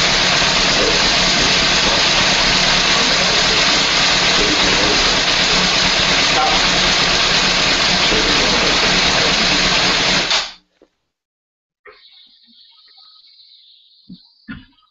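A classic muscle car engine runs with a loud, dense, continuous rumble for about ten seconds, then cuts off abruptly into near silence broken by a faint hum and a few small knocks.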